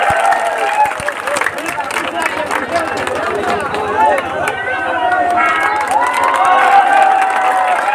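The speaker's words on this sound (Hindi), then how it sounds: "तालियों से स्वागत कीजिए" At a nighttime dance competition between a women's troupe and a male dancer, a large crowd claps and cheers steadily, with shouts and chatter throughout and no pause in the noise.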